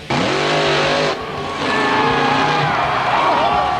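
A monster truck's engine roars loud and close, with a brief dip before climbing again in a steady, revving drone.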